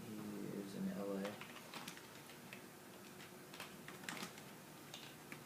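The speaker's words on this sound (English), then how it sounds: "Oh, you're a fast typer." Fast typing on a computer keyboard, light rapid clicks and ticks in an office, faint and close, with a voice talking over part of it.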